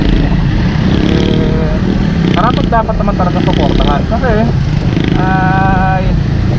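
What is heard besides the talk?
Suzuki Raider 150 carburetor motorcycle engine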